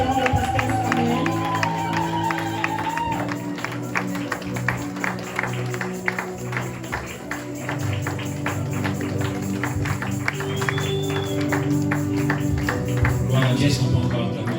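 A church congregation at a Sunday service claps in steady rhythmic unison, with cheering voices and background music throughout, while people speak over the applause.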